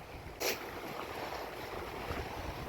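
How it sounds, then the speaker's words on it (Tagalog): Steady, broadband wind roaring outdoors in cold Chicago weather during fishing, with a brief louder gust near the start and a constant rushing texture throughout; no voices. "Ay, malakas ang hangin."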